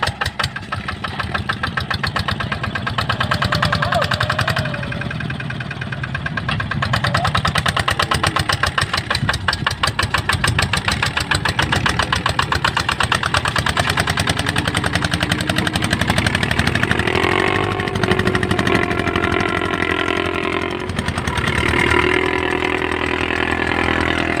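A heavy truck engine roars continuously at high revs, a rough, rapid pulsing drone that stays loud and close throughout.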